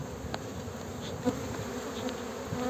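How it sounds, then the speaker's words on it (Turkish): Agitated honeybees from a queenless hive in Muğla buzz in a continuous, close drone, with a few individual bees flying past louder, heard alone without voices. "Arı biraz hırçın."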